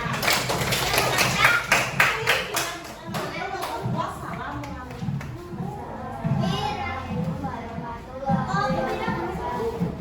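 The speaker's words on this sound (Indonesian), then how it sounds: "Silakan berikan tepuk tangan" Students in a classroom clapping for a group, with a burst of quick close claps in the first few seconds that gives way to children's chatter and movement.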